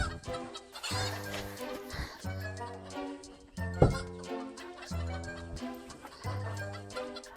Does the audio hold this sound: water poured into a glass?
no